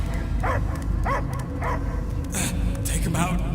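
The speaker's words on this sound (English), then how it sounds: "I hear only barking" A dog in the Guardians of the Galaxy video game gives several rhythmic barks and yips over a deep rumbling game soundtrack.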